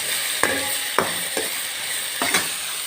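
Food is mixed and fried in a pan, a steady hiss of frying broken by four sharp utensil scrapes and knocks against the pan at uneven intervals, close up with no voices.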